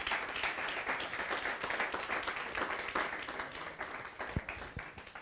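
An audience in a live comedy show setting applauds as performer Cindy Lopes is introduced, a lively burst of clapping from a modest crowd, fairly quiet overall and tapering slightly toward the end, with a few sharper individual claps.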